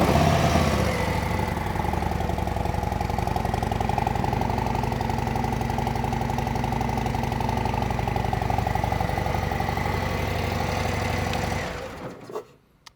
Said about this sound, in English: I'll start this bike up.